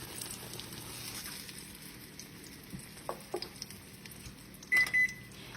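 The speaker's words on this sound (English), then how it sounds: "this is how I sear it, and you hear that already" Meat searing in olive oil in a pan for pot roast, a steady soft sizzle under faint kitchen noise, with a few clicks and a short beep near the end.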